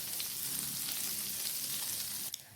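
Slices of bread fry in melted butter in a pan over a low flame, giving a steady, close sizzle that fills the whole stretch, with a small clatter near the end.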